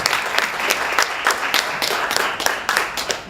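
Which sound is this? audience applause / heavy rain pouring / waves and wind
audience applause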